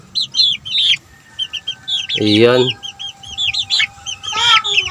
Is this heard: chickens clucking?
yes